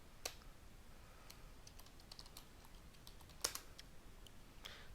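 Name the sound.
typing credentials and password on a computer keyboard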